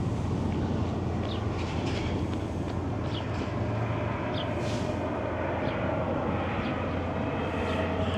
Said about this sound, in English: here comes another plane on final